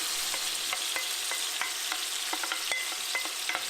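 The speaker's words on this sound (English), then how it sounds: "I'm going to go ahead and put in the mixture of tomatoes and herbs and quickly fry" A mixture of tomatoes and herbs fries in smoking hot oil for pasta with four herbs. The sizzle is continuous and close, broken by light clicks of stirring.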